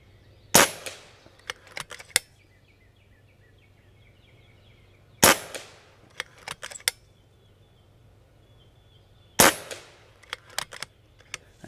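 Three sharp, loud shots from a Karma Red Panda .30 caliber bench rest air rifle crack out a few seconds apart, each followed by quick mechanical clicks of cycling and handling.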